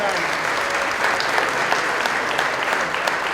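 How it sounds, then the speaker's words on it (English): A crowd at the Peabody's Honorary Duckmaster ceremony applauds in a thick, continuous roar of many hands, steady and fairly loud throughout with no pauses. "Let's give a round of applause, ladies and gentlemen"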